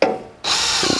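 A power drill bores into a plunger while landscape curbing is being installed, giving a short, loud, steady whirr that starts abruptly after a brief knock.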